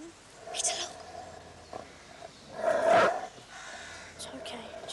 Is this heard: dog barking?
yes